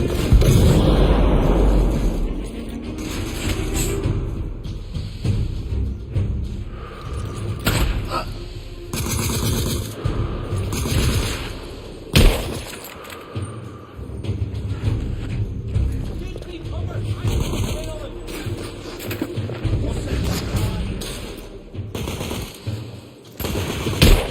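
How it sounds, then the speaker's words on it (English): In the video game The Order: 1886, a firefight brings rapid bursts of gunfire, clanking mechanisms and a heavy grenade blast midway, with voices shouting among the shots. "Grenade!"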